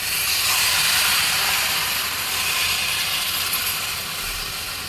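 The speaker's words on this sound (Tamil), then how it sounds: "நம்ம தேவைக்கு கொஞ்சமாக தண்ணி ஊற்றிக்கலாம்" A loud, continuous sizzling hiss as water is poured into a hot pan of meat, potato, onion and tomato curry, steady for several seconds with a slight fade near the end.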